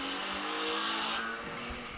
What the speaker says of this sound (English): sounds like we got some cars moving